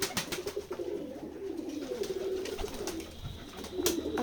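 Pigeons of several kinds kept on a village farm in Jessore, Keshabpur, coo softly and repeatedly at close range, with other birds calling faintly amid light background noise.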